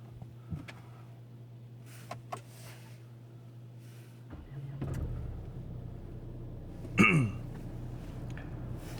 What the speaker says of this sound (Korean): 일단은 제 차 시동 좀 걸어 볼게요.